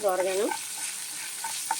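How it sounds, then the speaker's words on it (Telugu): Hot oil sizzling and crackling as mustard seeds, cumin, curry leaves and dried red chillies are tempered, after a brief squeak of a spoon at the start, with small pops scattered through the rest. "ఆయిల్ వీటెక్కింది కరివేపాకు ఎండుమిరకాయలు జీలకర్ర తీసుకున్నాం కదండి ఆవాలను ఇవి వేసేస్తున్నాను"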